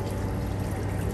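Water pouring steadily into a measuring cylinder during an Osborne Reynolds flow experiment, a continuous close splashing pour that holds even for the whole moment with no talk.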